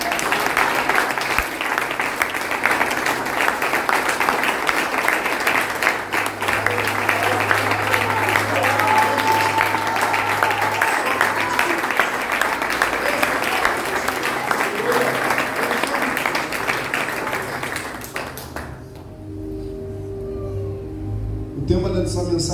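A church congregation applauds in dense, sustained clapping for about eighteen seconds, then it fades quickly into quieter room tone.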